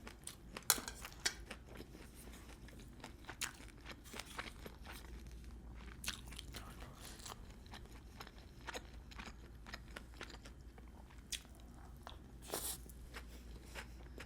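Close, crisp crunching and biting into a lobster tail with scattered sharp cracks, steady chewing noises throughout and no talking.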